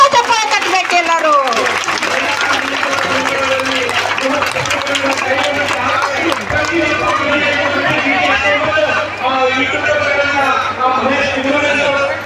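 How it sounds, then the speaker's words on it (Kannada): Crowd applause at a statewide protest sit-in by ASHA health workers, a continuous wash of clapping from many people mixed with loud speech and crowd babble throughout. "ಜೋರಾದ ಚಪ್ಪಾಳೆ ಕಟ್ಟಬೇಕು ಎಲ್ಲರೂ"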